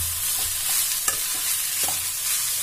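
A spatula scrapes and stirs leftover rice frying with coriander in a pan. Several distinct strokes sound over a soft, constant sizzle, with one sharper clink near the middle.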